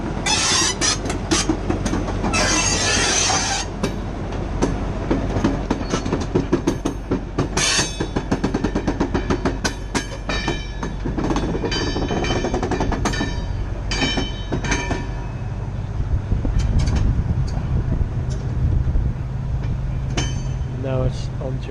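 A train at Whitwell and Reepham station in Norfolk pulls away and crosses over onto another track, rumbling and clattering loudly and continuously with rattling wheels, while a person talks over it.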